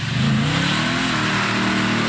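A 1970 Pontiac Firebird Trans Am muscle car engine revs and accelerates with a loud, continuous roar whose pitch climbs and then settles, close and with no talk.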